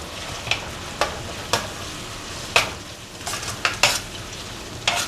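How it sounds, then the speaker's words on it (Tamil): Chopped tomatoes with turmeric sauté in a pan for rava kichadi, a soft steady sizzle punctuated by crisp clacks of a spatula against the pan at irregular intervals. "தக்காளி நல்லா வதங்கணும்"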